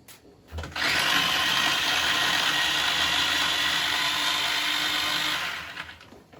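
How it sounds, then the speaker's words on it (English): A blender grinds cabbage into homemade soft food for pet birds, a loud steady whirring drone that starts abruptly after a brief thump, runs for about five seconds and winds down at the end, with no talking. "So here's my cabbage. We're going to grind this right now, actually."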